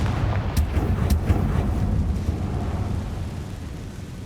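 Confringo blasting spell going off in Hogwarts Legacy, a loud, dense rumbling blast with a couple of sharp crackling bursts early on, its boom rolling and slowly fading away.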